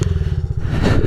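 Honda CRF50 pit bike engine running in snow, a loud close rapid putter that swells as it is revved near the end.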